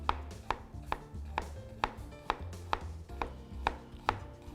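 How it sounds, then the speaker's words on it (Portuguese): A sharp knife finely chopping onion on a cutting board, about ten steady, evenly spaced crisp taps, close and fairly quiet, with no talking. "Então vou picar a cebola aqui devagarzinho"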